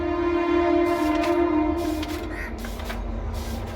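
Train running past close to a station, a loud sustained horn-like tone with harmonics over a rumbling rolling base, shifting pitch midway as it passes, no talking.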